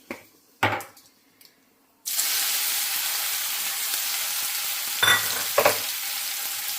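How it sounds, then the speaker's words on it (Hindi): Vegetables frying in shallow oil in a home kitchen, a steady close crackling sizzle that starts abruptly after a few light clatters and continues unbroken, with a couple of brief stirring clanks near the end. "एक एक करके चीज़ों को फ्राई करूँगी मैं"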